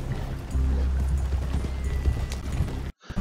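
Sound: horse hooves clip-clopping in a video game

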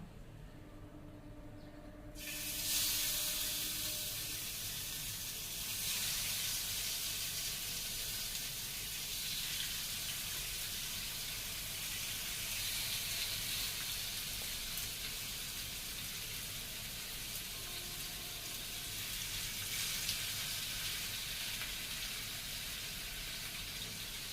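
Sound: marinated fish pieces frying in oil

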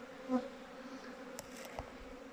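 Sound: honeybees buzzing

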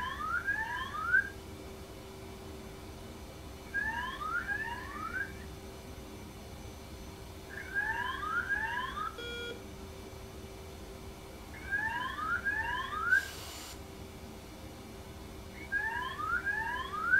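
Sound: cockpit warning alarm in DCS F/A-18C flight simulator video game

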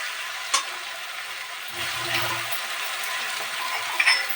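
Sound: bay leaf tempering sizzling in hot ghee

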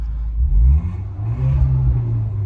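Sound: Audi A5 2013 engine revving

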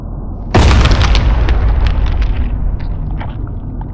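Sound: firecracker exploding inside an egg

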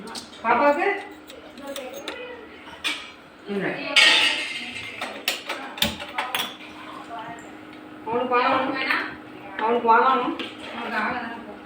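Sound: stirring mutton gravy in a pot

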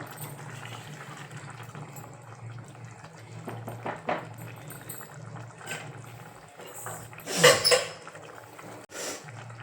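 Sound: pouring hot water into pav bhaji in cooker

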